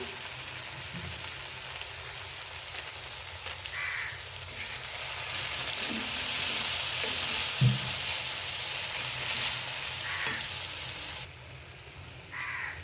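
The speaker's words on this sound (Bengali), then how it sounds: "টমেটো আর আদা দিয়ে দিলাম জিরে দিয়ে দিলাম" Tomato, ginger and cumin fry in a pan for a vegetarian stuffed aloo dum. A continuous soft sizzle swells a little midway, while crows caw intermittently in the background.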